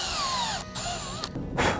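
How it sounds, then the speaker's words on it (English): A power drill bores a pilot hole into a flat-bottomed PVC plug, giving a close, loud whirring whine that changes pitch as the bit bites. There are short pauses and a final burst of rough cutting noise. "I do have a drill bit right over the board."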